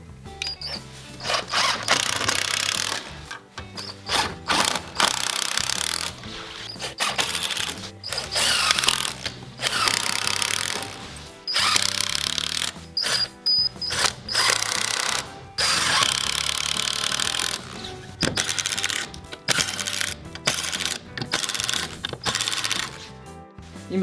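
A power driver fitted with a square bit drives screws into bracing hardware on an old wooden house renovation, running in repeated loud bursts with short pauses between each screw.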